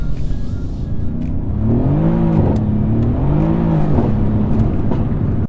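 A big-engined, rear-wheel-drive AMG car revs loudly and close, the pitch climbing and falling in two rising sweeps over a deep, steady rumble.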